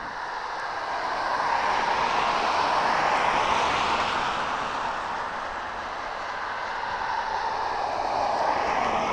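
A jet aircraft at East Midlands Airport rumbles as a broad, steady roar that swells and eases slightly over several seconds, heard from a distance with no voices.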